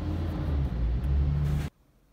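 A car engine idles with a steady low rumble, then cuts off abruptly as the key is turned, leaving near silence.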